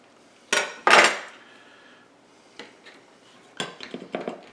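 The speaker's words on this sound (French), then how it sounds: "Simplement couper le gâteau en deux." A knife slices through a lemon sour cream cake, cutting it in half, with several sharp clinks and scrapes of metal against a plate, a couple of strong strikes early and lighter clatter later, close and clear.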